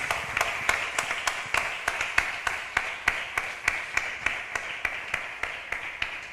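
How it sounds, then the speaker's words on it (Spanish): A church congregation claps in a steady, rhythmic beat during a sermon, sharp regular hand claps repeating about every third of a second over a faint background hum. "Da un aplauso bien fuerte para el Señor Jesús."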